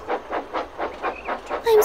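Animated steam engine train pulling another engine home, a rhythmic chuffing of regular puffs at moderate loudness, ending with a brief brighter hiss or whistle-like burst.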